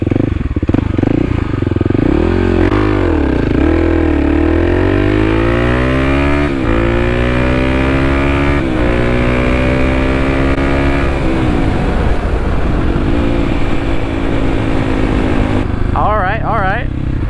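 Kawasaki KLX300 motorcycle revving hard through first gear and then pulling long and steady in second with a rising engine whine, loud and close, before it eases off at the end.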